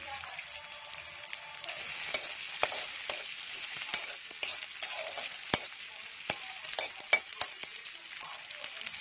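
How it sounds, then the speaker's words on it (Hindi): Onion frying in oil in a pan while poha is prepared, a steady close sizzle with scattered sharp clicks and scrapes of stirring throughout, no talking. "थोड़ा प्याज डाल देंगे।"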